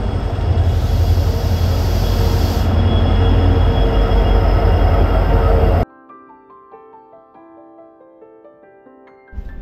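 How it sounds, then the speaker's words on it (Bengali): The 18048 Vasco da Gama–Kalimar Express pulls into platform 2 of a station with a loud, close rumble and squealing wheels for about six seconds, then cuts off abruptly to a quieter tonal sound. "18048 ভাস্কো দা গামা কালিমার এক্সপ্রেস প্ল্যাটফর্ম নাম্বার 2-তে আসছে।"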